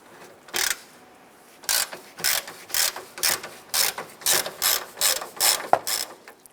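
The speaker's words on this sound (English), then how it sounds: "I'm going to go ahead and use our ratchet." A hand ratchet clicks in quick bursts while loosening 12mm bolts on a Nissan Versa's radiator support, about a dozen rhythmic sweeps of rapid pawl clicks with short pauses between, close and without speech.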